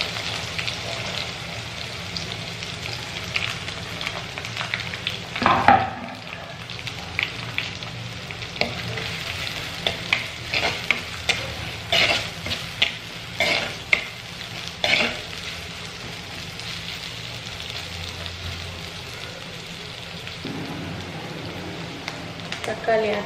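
Onions tipped into a pan where curry leaves have already crackled in oil set off a loud, continuous sizzle, broken by scraping stirs and sharper bursts now and then.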